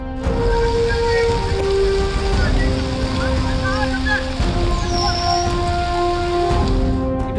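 Heavy rain roars in a dense, unbroken wash, with gusting wind blowing through it, in Yadadri district, Telangana.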